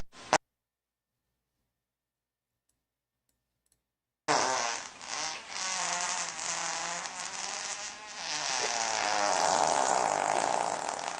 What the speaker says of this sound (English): I've never heard a rabbit fart like that.